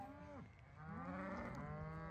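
Cows low on a farm in two long, deep moos, the second one sustained and loud, heard close with steady outdoor background noise.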